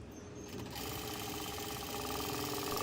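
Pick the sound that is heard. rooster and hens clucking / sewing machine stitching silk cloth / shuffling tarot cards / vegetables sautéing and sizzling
sewing machine stitching silk cloth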